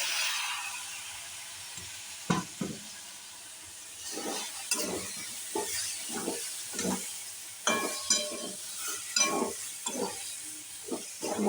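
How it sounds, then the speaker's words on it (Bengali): Green peas tipped into masala frying in a pan for matar paneer, giving a steady sizzle broken by repeated stirring scrapes and clatters, close and moderately loud, with no talking. "এবার মটর দিয়ে দেবো"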